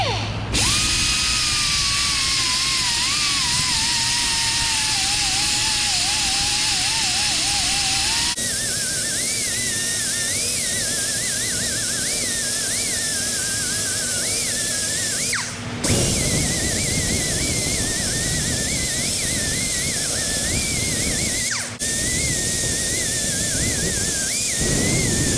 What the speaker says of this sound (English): I needed some that were sandpaper-like in order to be able to actually physically grind away this metal right here for a flat surface